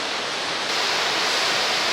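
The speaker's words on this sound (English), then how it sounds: "What we're seeing now are the rapids leading up to the American Falls" Rapids rushing toward the American Falls at Niagara Falls, New York, a steady, loud, broadband roar of churning water with no breaks, growing slightly fuller partway through and heard alone.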